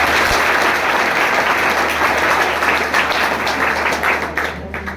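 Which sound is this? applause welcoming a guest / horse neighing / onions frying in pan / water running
applause welcoming a guest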